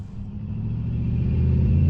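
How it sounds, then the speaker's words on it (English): A truck turns and drives uphill with a deep, steady engine rumble that slowly grows louder as it climbs, with no voices over it. "See as that truck turned and it's going uphill"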